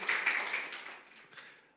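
A church congregation claps together in worship, a short burst of applause that is fairly soft and fades out over a second or two.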